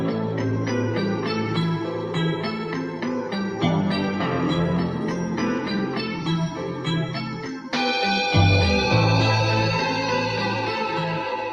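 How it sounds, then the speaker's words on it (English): Reversed guitar plays as a dense, swelling sample with choppy rhythmic attacks that fade in rather than out, shifting to a brighter sustained passage partway through, with no talking. "Guitars actually sound really good reversed"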